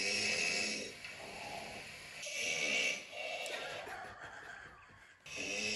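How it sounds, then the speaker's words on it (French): A person snores while asleep at night, with several slow, rasping breaths that swell and fade in a steady rhythm. The sound is fairly close, with no talk. "Ton premier ronflement est intervenu à 23h34."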